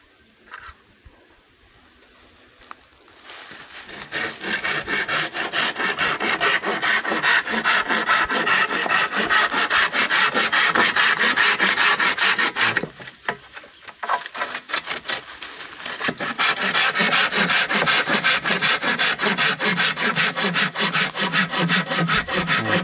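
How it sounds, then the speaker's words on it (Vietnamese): A hand saw cuts through wood in steady back-and-forth strokes, loud and close, pausing briefly midway before the rasping resumes. "Cưa này chắc đấy nhỉ, chuẩn đấy"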